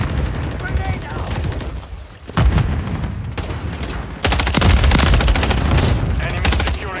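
Rapid automatic rifle bursts and explosions in Call of Duty Modern Warfare 3 multiplayer, loud and dense, with a shouted in-game callout over the gunfire.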